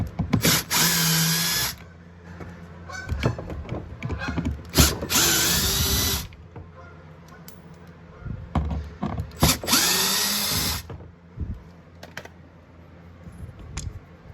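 A power drill or driver backs T27 screws out of a Chrysler Pacifica window motor, with three loud whirring bursts of a few seconds each separated by softer handling clicks and clatter.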